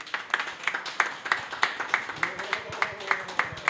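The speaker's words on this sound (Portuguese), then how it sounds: "Nosso aplauso para você que nos assistiu." An audience claps at the closing of a public-television forum in Brasília. The claps are distinct and sharp, falling in an even, rhythmic beat about three per second, with a faint voice underneath.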